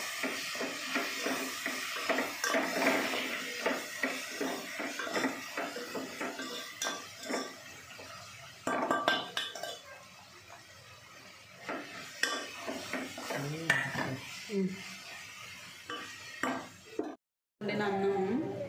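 Cooked rice being mixed with spinach and coriander in a metal vessel, repeated scraping and clinking of a spoon against the pot, close, with a voice talking intermittently.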